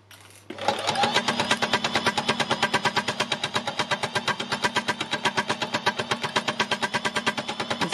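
An embellishing machine working through two layers of fabric starts up after a short pause. It then runs with a fast, even, mechanical needle-punching chatter, loud and close, with no voices.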